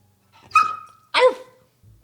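A dog barks twice, loud and close, with a short pause between the two barks.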